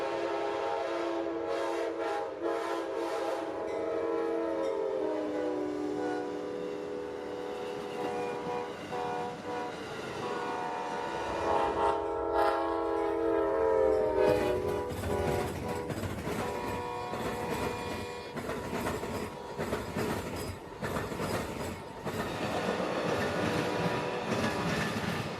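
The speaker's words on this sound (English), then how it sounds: "Amtrak 91 passes us, rumbling towards his Lakeland station stop" An Amtrak passenger train rumbles past on the rails in Florida with steady clatter, and its horn sounds in long tones partway through, moderately distant.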